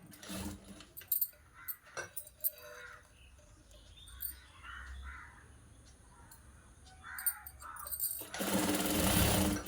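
A sewing machine stitches a blouse sleeve joint in short runs, a rapid mechanical rattle at the start and a louder sustained whirr at the end, with quiet pauses, light handling sounds and a bird cawing in the background.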